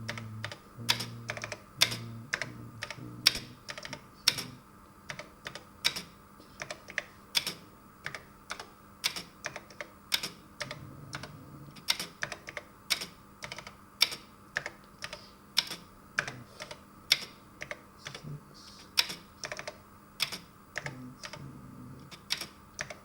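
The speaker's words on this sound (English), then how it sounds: "let's enter our program by typing every byte" An Apple II europlus keyboard clacks as program bytes are keyed in one by one, sharp close keystrokes in irregular bursts and short runs with brief gaps, no talking.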